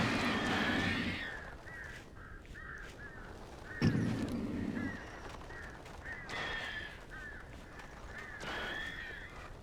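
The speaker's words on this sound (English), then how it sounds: "God damn it. Birds." Crows caw repeatedly in short bursts of two or three calls within the Alan Wake video game, moderately loud over a muffled ambient rumble, with a brief thump near the middle.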